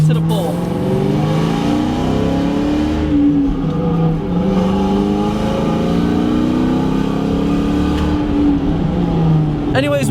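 A 1999-2004 Ford Mustang GT accelerating hard, its engine note climbing steadily through the gears and dropping at the shifts, loud and close throughout, with a voice talking over it.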